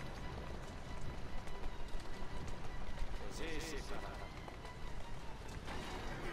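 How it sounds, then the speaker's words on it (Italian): A horse gallops through the Assassin's Creed Syndicate video game world, fast rhythmic hoofbeats thudding steadily beneath excited talking. "il cavallo è assatanato"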